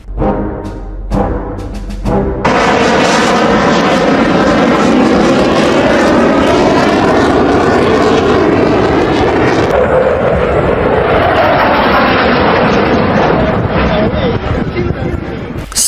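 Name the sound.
F-16 fighter jet flying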